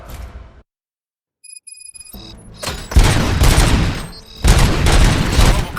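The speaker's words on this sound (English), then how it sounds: "Gunshots? What's going on?" Gunfire rattles in the RoboCop Rogue City video game. A silent gap and some faint electronic tones give way to loud, dense bursts of shots and impacts that keep going to the end.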